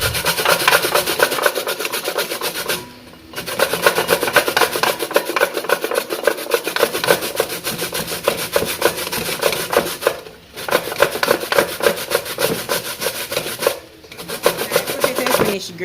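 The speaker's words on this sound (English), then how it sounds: "so I'm going to go ahead and start by grating my dasheen" Dasheen is rubbed hard against a hand grater in quick, rhythmic rasping strokes, loud and close, with a few brief pauses between bursts of scraping.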